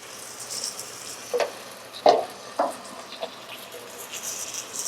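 Chicken biryani ingredients fry with spices in a pan, a soft continuous sizzle broken by a few brief louder crackles and stirring scrapes, close and fairly quiet.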